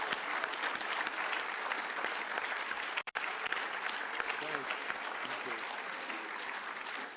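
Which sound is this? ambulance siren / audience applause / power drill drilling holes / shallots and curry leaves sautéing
audience applause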